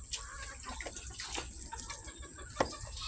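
Gamecock chickens cluck softly and intermittently while feeding in a farmyard, low-level and somewhat distant, with one sharper call near the end over faint background noise.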